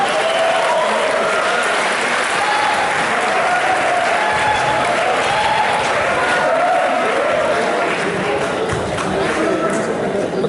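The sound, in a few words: audience applause welcoming a speaker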